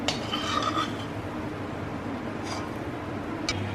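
Sliced onions are being caramelized in a pan for a rice pulao, with a steady low sizzle under scraping and clinking of a metal spoon against the pan, close and moderately loud.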